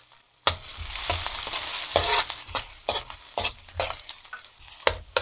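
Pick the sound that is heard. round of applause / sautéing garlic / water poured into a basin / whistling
sautéing garlic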